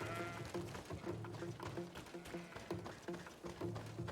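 Goats bleat repeatedly in the GreedFall video game, a rhythmic series of nasal calls over a steady game ambience, with elk nearby in the scene.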